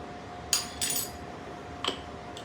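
A metal spoon handled in a kitchen while salting pico de gallo: a few quiet, bright clinks and light scrapes, spaced irregularly over low room noise, with no talking.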